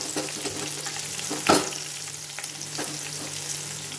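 Large chicken leg pieces deep frying in hot oil for homemade KFC-style chicken, a dense steady crackling sizzle with one brief louder burst of spitting oil near the middle.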